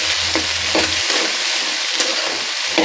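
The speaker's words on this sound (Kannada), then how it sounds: "ನೋಡಿ, ಕ್ಯಾಪ್ಸಿಕಮ್ ಹೆಚ್ಚಿದ್ನಲ್ಲ, ಹಾಕ್ತಾ ಇದ್ದೀನಿ. ಕ್ಯಾಪ್ಸಿಕಮ್ ಹಾಕಿದ್ದೀನಿ. ನೋಡಿ, ಚೆನ್ನಾಗಿ ಮೊಗ್ಬೇಕದು." Chopped capsicum sizzles in hot oil in a pan, a steady close frying hiss broken by a few light stirring scrapes.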